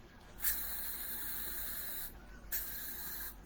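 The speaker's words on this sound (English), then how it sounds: "just spraying the apartment down" Two long hissing sprays from a spray bottle indoors in an apartment, a steady burst of about one and a half seconds, then a second one after a brief pause.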